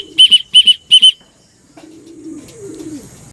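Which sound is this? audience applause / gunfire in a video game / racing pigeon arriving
racing pigeon arriving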